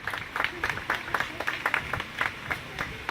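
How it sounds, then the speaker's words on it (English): Scattered audience applause at an alligator show in an Everglades park: a loose burst of claps from a crowd, moderately loud and steady for a few seconds with no talk over it. "Sometimes people even clap."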